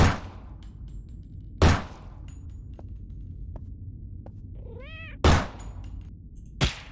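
A cat meows once in the horror video game Nightmare of Decay, a short rising-and-falling call in a quiet game space, set between several sharp gunshot-like thuds and faint ambient clicks.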